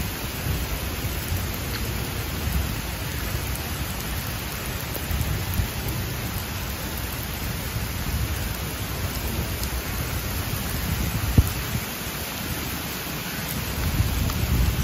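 Heavy pouring rain falls as a dense, constant hiss, loud and unbroken for the whole stretch with no voices.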